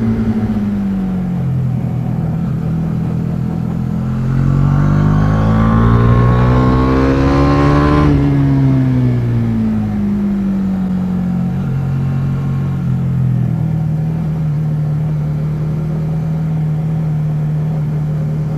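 A Bajaj Dominar 400 motorcycle engine under riding, revving up steadily as speed builds, then easing off and settling into a constant drone for the rest of the ride, loud and close with no talk.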